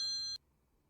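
Phone ringing in the horror video game Night Knock: a single bright electronic ring tone that sounds clearly for a fraction of a second and then cuts off abruptly into near silence.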